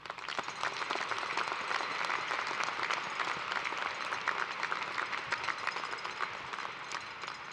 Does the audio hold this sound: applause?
yes